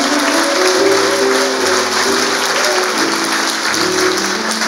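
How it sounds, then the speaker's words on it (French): A church congregation applauds loudly and steadily in a worship setting, a dense, continuous wash of clapping that fills the whole stretch without pause. "Acclame très fort pour le Seigneur."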